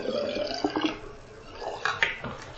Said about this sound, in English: take the washcloth out and let the water start draining